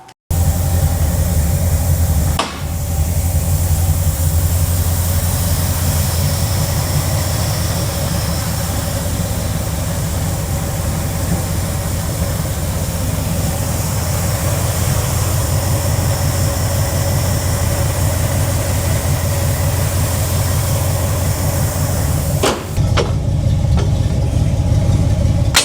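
A car engine idles steadily after a radiator and coolant refill, a low continuous rumble held for the whole stretch with no talk, broken only by two brief dips.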